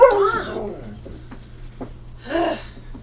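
A dog in a home kitchen lets out high, wavering whines and whimpers at close range, with a pause of quieter rustling before another whining burst.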